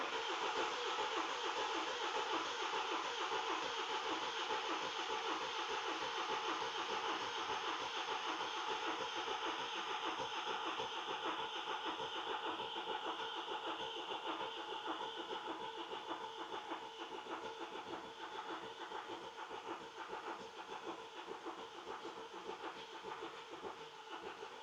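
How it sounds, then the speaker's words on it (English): A classic Mini's engine cranks steadily without catching, a continuous mechanical churning that holds level for a long stretch and fades slightly toward the end, with no voices over it. "Pop the ignition on. The fuel system will prime, and then we should go for a big start on the engine."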